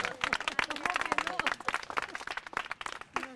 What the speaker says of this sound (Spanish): Nos aplaudimos porque tenemos paraguas.